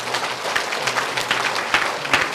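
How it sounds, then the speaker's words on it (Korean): A church congregation at a Korean Sunday worship service claps together, with the sharp, uneven hand-claps filling the room over a low background hum. "박수를 한번 주십시오."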